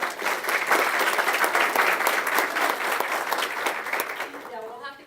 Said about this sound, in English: I just would like to give a little round of applause for our children